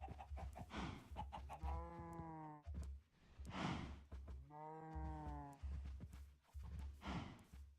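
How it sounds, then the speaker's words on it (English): Cows mooing in the Minecraft video game, two long drawn-out moos with a harmonic tone, plus shorter animal grunts and clucks around them, close and clear in a busy farm scene. "let's breed up some cows"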